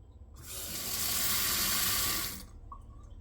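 Water gushes from an Allan + Roth touchless kitchen faucet into a sink, starting abruptly, running steadily and loudly for about two seconds, then cutting off cleanly.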